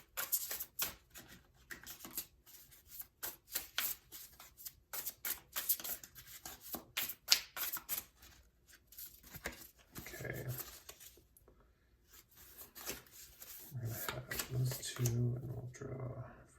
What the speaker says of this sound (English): let's do some tarot card shuffling